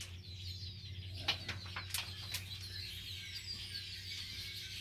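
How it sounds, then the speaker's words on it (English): Crows calling from trees outdoors, several harsh caws rising in a short cluster at moderate distance over a steady low background hum. "Oh, the crows are going now."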